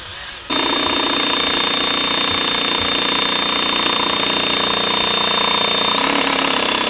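A power drill driving a hard screw on a Kawasaki KX250F runs loud and steady after a short quieter start, its motor whining with a rough, stuttering grind throughout.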